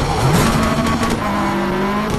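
Rally car engine in the WRC 3 racing video game during a handbrake hairpin turn, loud and steady with engine drone, a brief rising rev and tire scrub throughout.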